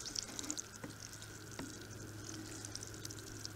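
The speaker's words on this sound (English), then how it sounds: "I'm going to be feeding here with the Sea Magic, and I'm going to be dumping it over the leaves too" Liquid seaweed fertilizer (Sea Magic) is poured over the leaves of a container-grown pepper plant, making a soft, faint, steady trickle and splash with light spatter and no talking.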